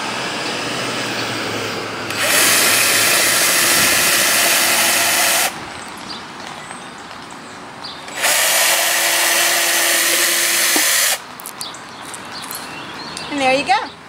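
A power drill bores a hole in the bottom of a plastic planting bucket in two loud, steady bursts of about three seconds each, with someone talking between them.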